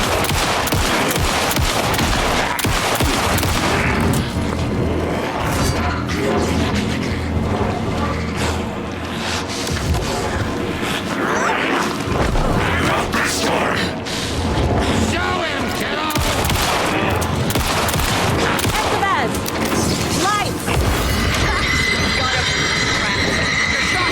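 Bursts of gunfire in the Alan Wake 2 video game, rapid shots mixed into loud, busy game noise with characters talking throughout.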